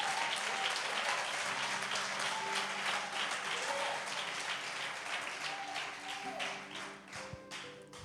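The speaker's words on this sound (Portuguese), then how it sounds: "Aplauda bem forte a Jesus," A church congregation applauds in a steady, scattered patter of many hands at moderate distance, with faint tonal sounds underneath and the clapping thinning out toward the end.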